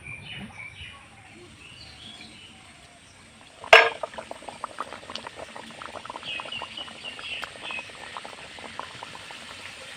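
A jackfruit-filled puri drops into hot oil and bursts into vigorous bubbling sizzle after a sharp splash, the frying crackle staying busy and close.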